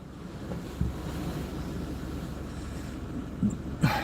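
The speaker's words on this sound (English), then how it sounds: "with the swell, you get big splashes that come straight over the top here" Swell breaking against the Gynn sea wall at Blackpool, a steady wash of surf and wind noise with a few sharper splash thumps toward the end.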